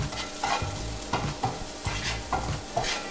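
Eggs seasoned with seasoning salt frying in a pan, a steady soft sizzle with periodic scraping stir strokes recurring every half second or so, fairly quiet and close.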